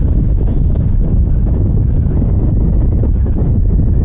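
Loud, steady, cold wind roars and buffets the microphone of a motorcycle on the road throughout, a constant low rumble with no pauses and no voices.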